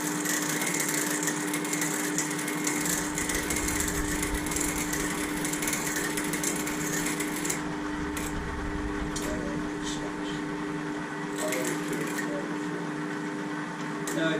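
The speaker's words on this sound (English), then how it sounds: "this is brass, so I have to go very careful because it does tend to snatch the drill bit, so I'm going very slowly" A drill bit boring slowly through a brass workpiece, a steady whirring drone with faint crackling and brief catches as the bit bites, close and continuous.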